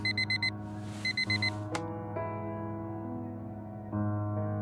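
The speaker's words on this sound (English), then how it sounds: "Every day that alarm goes off." Alarm clock in the video game Fragments of Him gives bursts of rapid electronic beeps, then a sharp click as it stops, leaving sustained tonal background music.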